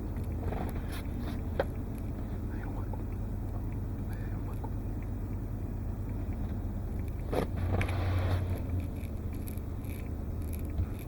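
A Lexus GX470 SUV climbs an off-road hill, its engine drone steady and low throughout, with a brief louder surge near the end and no speech.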